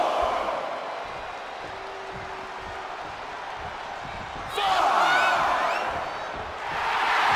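Arena crowd in the WWE 2K23 wrestling game, a steady roar of cheering that swells louder partway through, with a commentator speaking over it.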